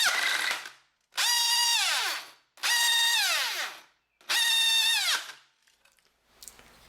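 A DeWalt DWD110 variable-speed cordless drill whines in four bursts, its motor pitch dipping as it labors and slips internally while the chuck holds, with short silences between each run.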